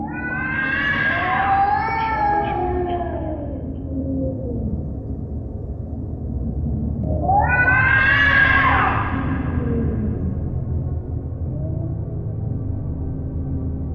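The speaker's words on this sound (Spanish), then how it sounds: "escuchamos un gato gruñir" A cat's drawn-out, wavering cries and growls, loud and close, rising twice into strained yowls over a low rumbling background.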